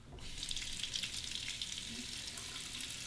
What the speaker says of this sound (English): Dry the fingers, temper the razor under the hot water.